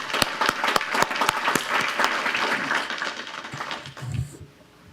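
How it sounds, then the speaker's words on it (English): Applause from the audience at a school board meeting: clear, distinct claps from a modest group, strongest early and thinning out before fading to near quiet at the end. "So give yourself a hand of applause."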